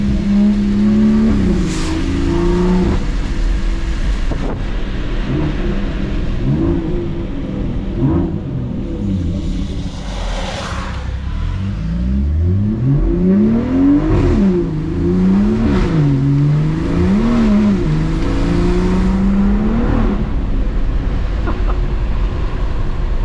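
A BMW 340i accelerates hard on a wet road in the rain, engine note rising and falling through several loud, sweeping pulls, with rumbling road and wind noise close by throughout.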